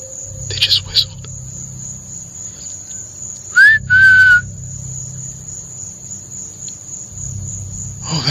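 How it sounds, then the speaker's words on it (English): Figures out in the woods at night give two short whistles, one rising and one held, clear above constant insect chirring, with faint rustling before them. "They just whistled."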